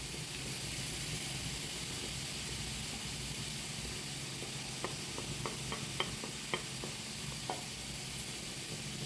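Spice powders and curry leaves fry in a pan with a steady sizzle and hiss, with light ticking taps from stirring scattered through the later part.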